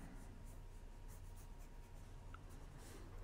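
Pencil sketching on paper, a lighter grade of pencil drawing a background scene, a continuous soft scratchy stroking close up over a steady low hum.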